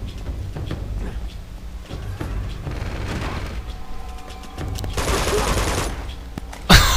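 Turret machine-gun fire in Uncharted 2 rattles in rapid, dense bursts with heavy booms and mechanical clatter, swelling louder toward the end.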